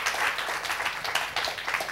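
A church congregation at an ICF service applauds, a brief spell of scattered, fairly close clapping lasting around two seconds.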